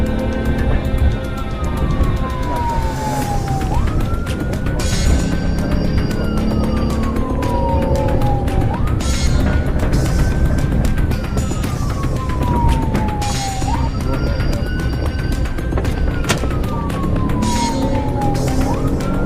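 Police car siren in a high-speed chase, a loud wailing tone sweeping down and then jumping back up in repeated cycles over a constant rumble of road and engine noise.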